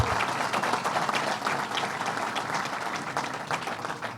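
An audience at a Belmont Park race track announcement breaks into steady applause, many hands clapping densely and continuously at a moderate distance, with a faint voice underneath.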